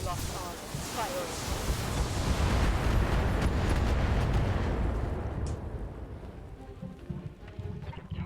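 Mech weapons in the BattleTech video game, an autocannon 20, SRMs and flamers, firing at a standard turret: a loud, sustained barrage of booming blasts and bursts that swells then slowly tails off, with no talking.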